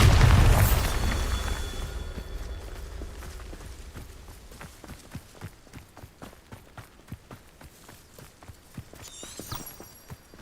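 A Bombarda spell blast in Hogwarts Legacy goes off with a loud booming burst that fades into a long rumbling decay, followed by a run of quick rhythmic thuds and pops like footsteps or debris.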